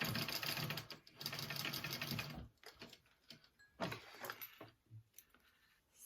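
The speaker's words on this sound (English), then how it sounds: "So you just sew that and then flip them up and top stitch it" A sewing machine stitches a quarter-inch seam on a mini backpack, running steadily for a couple of seconds, then giving way to faint handling clicks and fabric rustling, quiet and close.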